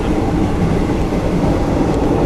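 Train rolling along a railway track, a loud, close, steady rumble of wheels and cars without pauses.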